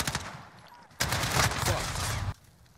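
Rapid bursts of AK-47 rifle fire in the Modern Warfare video game, loud and close, with a dense sustained volley in the middle of the clip before it drops back to quieter shots.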